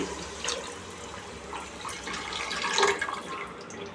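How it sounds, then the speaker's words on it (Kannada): Water pours steadily into a pot holding two glasses of rice for ghee rice, a close, continuous splashing and gurgling that swells slightly near the end, with no talking. "ನಾನಿಲ್ಲಿ ಎರಡು ಗ್ಲಾಸ್ ಅಕ್ಕಿ ತೊಗೊಂಡಿರೋದ್ರಿಂದ ನಾಲ್ಕು ಗ್ಲಾಸ್ ನೀರು ಸೇರಿಸ್ತಾ ಇದ್ದೀನಿ"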